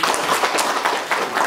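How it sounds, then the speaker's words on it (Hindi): Close, loud clapping from an audience at an Assam Regiment pension group celebration, a dense rapid patter of hands that holds steady throughout. "एक बार ताली बजाए"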